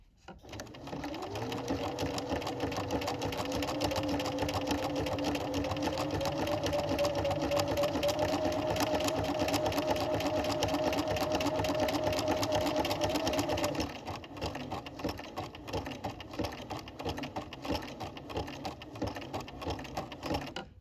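A sewing machine set to its buttonhole stitch sews the first leg of a buttonhole with a loud, steady mechanical whir for about twelve seconds, then drops to a quieter, idling hum.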